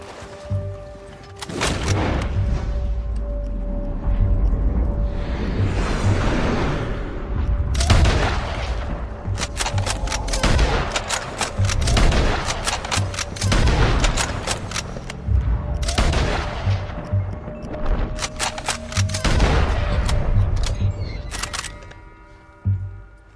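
Gunfire in the video game Red Dead Redemption 2: repeated sharp shots and booming blasts in irregular bursts, loud and close, with brief pauses between volleys and no talk over them.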